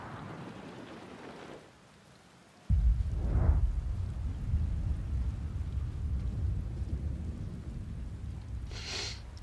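A video game thunderstorm on an alien planet: a deep roll of thunder breaks in after a brief quiet, then steady rain hisses on, with faint higher crackles and a distant rumble underneath.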